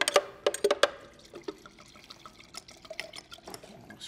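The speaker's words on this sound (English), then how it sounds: "Pour wine." Wine poured from a bottle into a glass beside a kitchen where prime NY strip steaks and bone marrow are roasting: close, gurgling glugs and splashes at first, then thinner trickles and drips, alone without talk.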